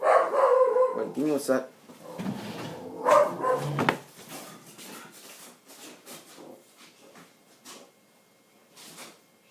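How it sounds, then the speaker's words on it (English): A dog barks several times in loud bursts up close, the barking strongest at the start and fading to softer yips and whimpers as a person talks over it. "Sorry, that was my dog."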